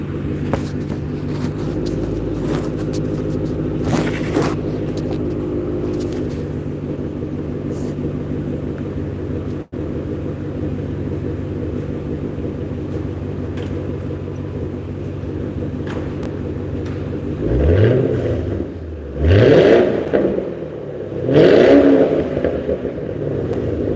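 A Lincoln Town Car with a mellowed, cleaned-up exhaust idles with a steady low rumble for most of the span, then barks through three short, loud revs near the end.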